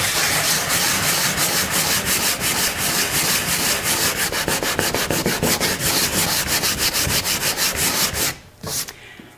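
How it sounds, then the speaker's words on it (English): A sanding block rubs back and forth over acrylic paint on a large abstract canvas in quick, even strokes, close and continuous, then stops briefly near the end. "now I want to try the sanding block"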